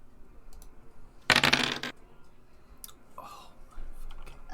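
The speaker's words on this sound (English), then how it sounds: "It sounds like 3 dice to me" Three dice tumble briefly across a table in a bright, clattering burst lasting about half a second. Quiet background murmur comes before it, and faint voices follow.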